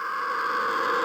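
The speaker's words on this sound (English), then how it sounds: "there's actually this fireplace that I EQ'd a lot of the high end out of" A fireplace with most of its high end filtered out, layered with wind and scream risers, forms a steady, dense wash of muffled noise that holds an even loudness throughout.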